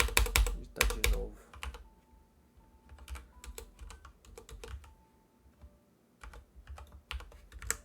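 Typing on a computer keyboard, close clusters of quick key clicks in bursts separated by short pauses, fairly quiet and heard alone.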